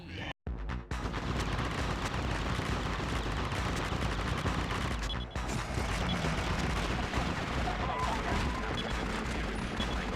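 Sustained, dense, loud gunfire and explosive booms fill the clip from the video game Twin Caliber, with only a brief drop near the start and a short dip midway.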